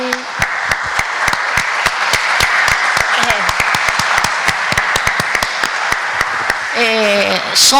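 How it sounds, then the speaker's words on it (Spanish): A seated academic audience applauds the organizing committee: sustained, fairly loud clapping with a few sharp individual claps standing out, and a voice starting to speak near the end. "debemos darle un aplauso"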